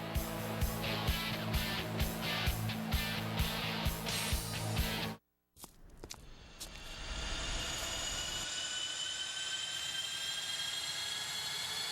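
Jet aircraft engines spool up in an airline commercial, following a rhythmic train-like clatter, then a brief silence and a rising, steady whine and roar that builds and holds loud and close.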